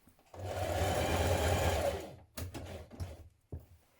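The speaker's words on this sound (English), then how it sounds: "Now we're going to top stitch down both sides." Sewing machine top stitching a summer dress, a steady fast mechanical whirr running about two seconds, then stopping and giving way to a few short bursts of stitching and handling noises.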